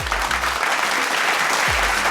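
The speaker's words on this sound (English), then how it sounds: "Let us give them a warm round of applause." Audience applause at a district public image seminar, a steady, dense wash of many hands clapping at close range, with a couple of brief low thumps underneath.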